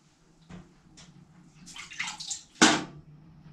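Dirty water is let out of a tub after washing clothes, giving soft splashes and gurgles followed by a brief louder sloshing gush, close and fairly quiet, with no speech.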